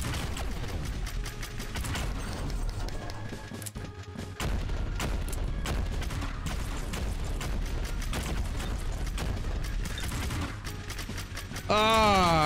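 Rapid machine-gun fire in the vampire-hunting shooter Vampire Hunters (Beta), dense and continuous bursts layered with booms and game effects, loud and steady throughout with a rising warble near the end.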